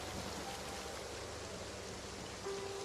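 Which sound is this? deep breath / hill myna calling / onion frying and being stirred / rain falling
rain falling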